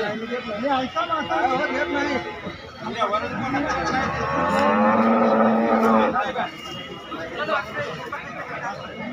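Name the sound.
cows mooing at Sangola cattle market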